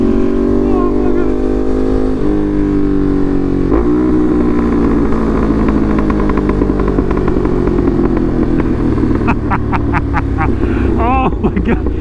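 A Ducati Monster motorcycle fitted with an SC Project exhaust is ridden on the road, its engine droning steadily with shifting pitch and a few quick revs near the end, while a rider talks over it.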